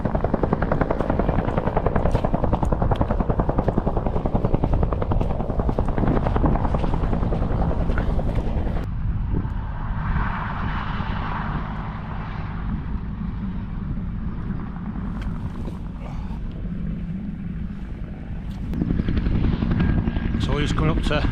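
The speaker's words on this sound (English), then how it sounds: "Still got the helicopter there picking up and dropping off slabs" A helicopter working near the Two Lads summit on a muddy winter hill walk, lifting and dropping slabs, drones steadily through the clip with a continuous rotor thrum under wind. Speech runs over it at the start and end.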